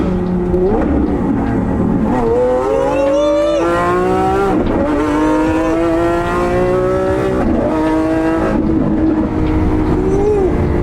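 A Lamborghini Aventador S with a single-clutch gearbox revs hard and accelerates through several rising gear pulls, loud and close, with brief drops between shifts and a steady roar throughout.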